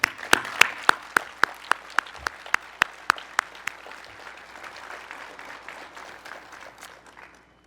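Applause from the audience at a dedication ceremony for Argonne's Advanced Photon Source, led by a run of sharp, evenly spaced near claps over steady crowd clapping that thins and fades out after about seven seconds.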